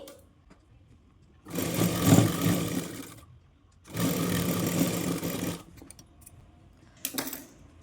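A sewing machine stitches lining fabric onto a sleeve in bursts: two long runs of rapid mechanical whirring separated by quiet pauses, then a short final burst, close and clear with no talking.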